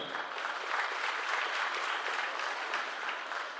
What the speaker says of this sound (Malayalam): നല്ല ഒരു ആദരവോടുകൂടിയ കയ്യടി കൊടുത്ത് നമുക്ക് അഭിനന്ദിക്കാം